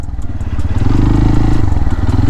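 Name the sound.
motorcycle engine riding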